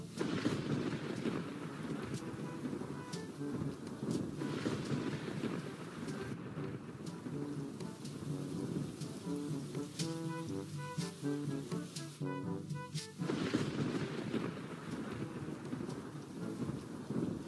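Steady rain pours through a stormy night with wind and rumbles of thunder, a dense unbroken wash of noise with some brief tonal sounds partway through.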